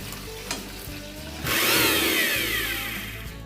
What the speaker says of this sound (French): blende-les dans moulinex en ajoutant moitié cup de l'eau pour faire une pâte